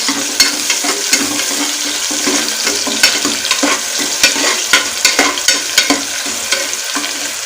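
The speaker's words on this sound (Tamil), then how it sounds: "வெங்காயம் சேர்த்துட்டு ஒரு ரெண்டு நிமிஷத்துக்கு நல்லா வதக்கி எடுத்துக்கிடுவோம்" Onion with whole garam masala sautéing in hot oil makes a loud, close, crackling sizzle, punctuated by frequent sharp stirring scrapes and clacks of a spatula against the pan.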